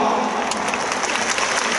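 A crowd of fans claps at a Chunichi Dragons fan festival looks contest, a brief dense burst of applause from the audience with no talking over it.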